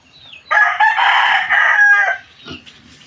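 A rooster crows loudly and close by, one long drawn-out call, followed by a few soft clucks from nearby chickens.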